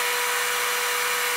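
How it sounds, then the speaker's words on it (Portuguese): A small electric drill runs steadily, powered through a compact solar kit of panel, battery, inverter and charge controller, giving a continuous whirring motor noise with a faint steady tone, close and unbroken throughout. "Furadeira elétrica funcionando"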